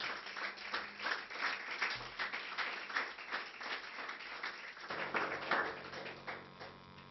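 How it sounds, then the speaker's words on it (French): Sustained audience applause fills a live stand-up comedy show as a performer is called to the stage, steady dense clapping from a crowd throughout, loud and close. "Sous vos applaudissements."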